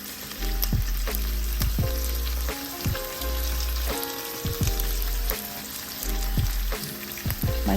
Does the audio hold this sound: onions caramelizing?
yes